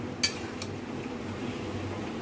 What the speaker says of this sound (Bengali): পটলটাকে ভালো করে মিশিয়ে নিচ্ছি।